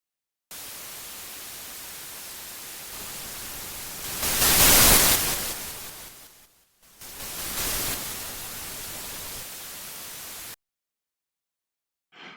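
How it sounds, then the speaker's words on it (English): A modular synth puts out a blend of white and pink noise as a steady broadband hiss. It swells louder midway, drops out briefly, returns and then cuts off abruptly. "I want to use a mixture of white noise and pink noise"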